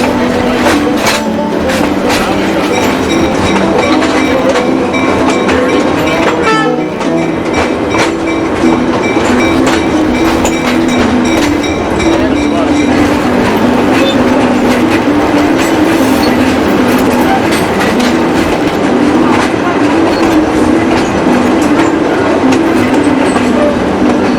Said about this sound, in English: This is on the Hobo Railroad on the way to the Weirs.